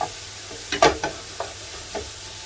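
Coq au vin sizzles in a pan while a spoon stirs it in several short scraping strokes, close and clear over a soft steady frying hiss.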